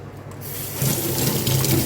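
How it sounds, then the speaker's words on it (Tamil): Tap water runs steadily from a household pipe while brass puja vessels are rinsed by hand, a close, continuous gushing and splashing that swells slightly partway through. "பைப் தண்ணியே தான் கழுவுறேன் நான்."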